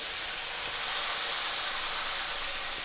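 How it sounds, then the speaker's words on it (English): Steady, bright sizzling hiss of pork loin searing in a hot pan, continuous and close, with no talking. "if you don't hear that sizzling noise, that means it's not hot enough"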